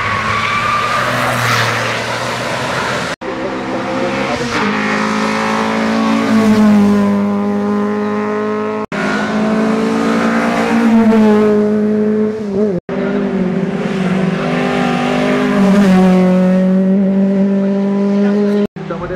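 A 250-horsepower, 880 kg race car roars past at speed at Marchairuz, its engine note rising and falling through gear changes, loud and continuous with brief cuts between passes.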